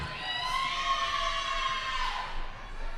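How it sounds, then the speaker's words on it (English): Spectators at a high school girls' basketball game between Apopka and Wekiva roar and whoop from the stands, a sustained, distant crowd swell that rises and lingers with no clear voices standing out. "And you hear the crowd go wild there."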